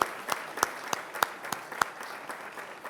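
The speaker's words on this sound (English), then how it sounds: "And let's give them a round of applause." At a mayor's State of the City address, sparse, fairly faint applause for elected officials comes as a handful of distinct, evenly spaced claps about a third of a second apart.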